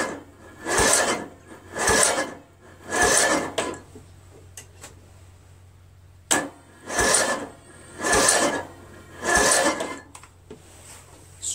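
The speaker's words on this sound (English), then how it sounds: "Choke. I'm going to crank it." A Craftsman lawn tractor's Briggs & Stratton 17.5 HP engine is cranked by its starter in two runs of rhythmic churning pulses about a second apart, loud and close, with a short pause between runs.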